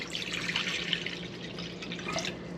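Room-temperature water pours into a bowl for arepa dough, a continuous splashing, trickling flow at close range with no voices.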